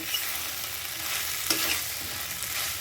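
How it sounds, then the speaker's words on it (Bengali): Ground spice paste frying for a jackfruit curry, with a steady close sizzle and a brief stirring scrape near the middle. "এই বাটা মশলাটা দিয়ে ভালো করে একটু ভেজে নিয়ে তারপরে আমি গুঁড়ো মশলাগুলো দেবো।"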